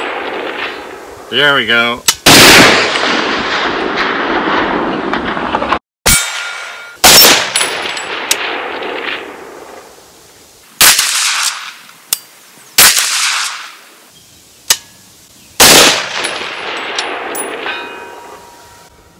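Rapid rifle shots from a BCA Huntmaster .30-06 AR, each sharp crack followed by a bright ringing clang of bullets striking a steel target, spaced irregularly over the stretch, with a brief spoken remark early on.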